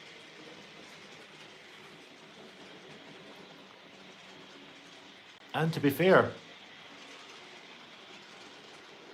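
A model 0-4-0 locomotive running on analog control rattles over track points in a short, close burst of clicks and clatter, with someone talking quietly before it.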